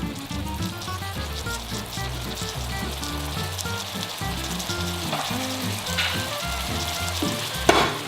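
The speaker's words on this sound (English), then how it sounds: "Let this simmer, and I'm going to check on our pasta real quick." Spicy shrimp and tomato pasta sauce bubbles and sizzles steadily in a pan, a continuous close frying hiss with a low hum underneath and one sharp clink near the end.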